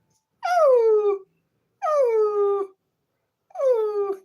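Three drawn-out, falling whimpers from the dog Lassie, each clear and whiny with a short silent gap between them, close and isolated with no talk.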